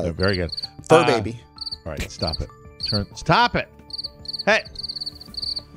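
Looping cricket chirps played as a sound effect on a talk show, a steady repeated high chirp running under loud overlapping talk and laughter throughout.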